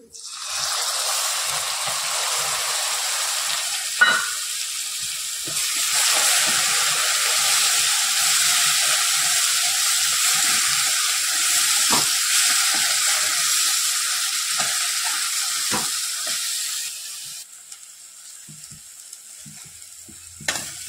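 Onion and tomato puree sautés in hot oil for pav bhaji, a loud continuous hissing sizzle that runs steadily and then drops quieter near the end, with a few spoon knocks and no voices.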